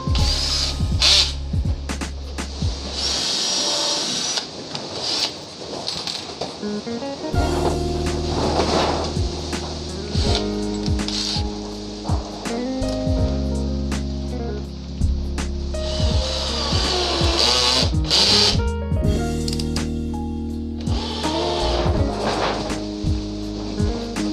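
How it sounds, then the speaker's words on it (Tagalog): Lotus 18V cordless impact drill boring a small pilot hole and then driving a thick screw, with repeated loud bursts of whirring and rattling impacts broken by short pauses, no voices. "Baon natin itong medyo matabang screw. Butasan lang natin ng maliit muna."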